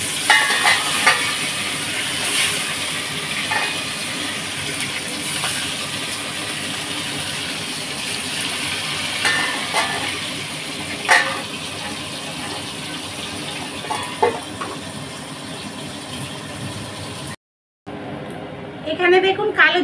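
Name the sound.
fish frying in oil with black cumin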